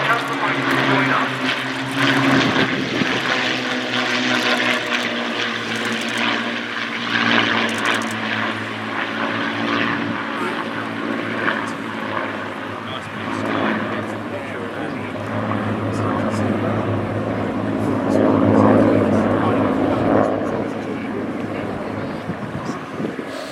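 A four-engined Lancaster bomber of the Battle of Britain Memorial Flight, wearing 460 Squadron markings, roars past during a flypast at RIAT Fairford, a loud, steady propeller drone that swells and fades, with distant commentary underneath.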